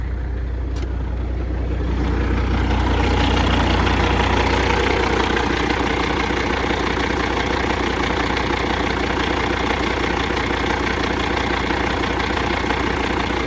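A Freightliner FLD truck's diesel engine starts and settles into a loud, steady idle after repair, a close, even rumble with a rhythmic knock and no talking.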